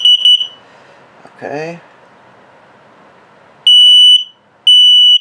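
RV smoke detector in a 2020 Crossroads Sunset Trail 212RB trailer sounding during a test: sharp piercing high beeps, a short burst at the start and two longer loud blasts near the end, with a brief spoken word between.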